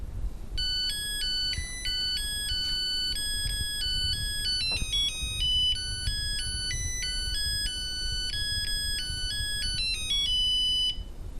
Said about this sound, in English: that, my friends, is the sound of rice being done